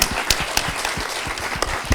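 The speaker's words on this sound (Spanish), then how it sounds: "por favor, un fuerte aplauso." Audience applause at a panel discussion, a dense patter of many hands clapping steadily, moderately loud and close.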